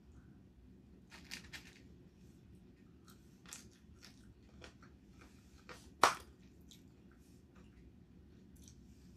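Crispy homemade fried tofu is bitten and chewed close to the microphone. Several crunchy bites come at irregular intervals, with one sharp, loud crunch standing out among quieter chewing sounds, and no talking.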